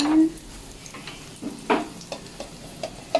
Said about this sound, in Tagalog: yung pinalambot ko pong pata kanina, igigisa natin siya.